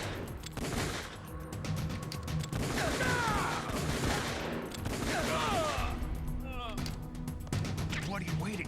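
Bursts of rapid gunfire from Metal Gear Solid: The Twin Snakes crackle throughout, dense and fairly loud, mixed with game effects while people talk over it.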